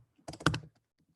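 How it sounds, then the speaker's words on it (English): Keys on a computer keyboard clatter in a short quick burst of several taps while code is typed during a Python machine learning class, close and fairly quiet, then a couple of faint clicks trail off. "as soon as I finish typing this code."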